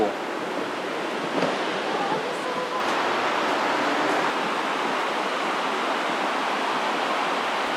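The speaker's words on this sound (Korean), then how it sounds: "물소리가 진짜 좋네" Steady rushing water flows continuously in a bamboo forest at Arashiyama, Kyoto, a loud, even wash of sound that barely changes throughout.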